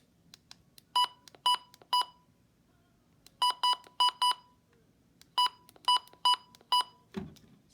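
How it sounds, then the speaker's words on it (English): An HH54 VP2 weather radio gives off crisp electronic button beeps in separate bursts: a quick run of three, then two faster runs of about five each, ending with a soft thump, all close and clear with no talking. "And we'll do the HH54 VP2 button beeps."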